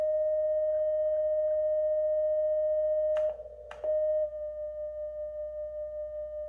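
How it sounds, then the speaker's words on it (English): Steady pure beat-frequency tone from a CFT1 5-band CW field transceiver being calibrated against a frequency generator, holding constantly with a slight wavering pulse and a couple of brief clicks midway. "if you listen, you can hear that whoa, whoa, whoa, whoa, whoa, whoa, whoa sound. That is called the beat frequency"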